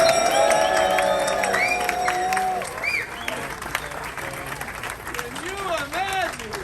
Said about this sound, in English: Let's give him one more loud round of applause.